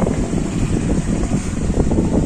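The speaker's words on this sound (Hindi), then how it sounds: "यहाँ बाहर तगड़ी हवा चल रही है" Strong wind blowing outdoors beside a temple, a steady broadband roar buffeting the microphone with continuous loud gusts and no break for the whole stretch.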